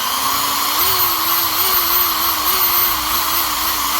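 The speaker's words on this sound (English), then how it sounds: "it's so hard to drill through plastic" Power drill with a big bit boring through a plastic isopod enclosure, a steady high-pitched whine held for the whole stretch with a slightly wavering pitch, loud and close.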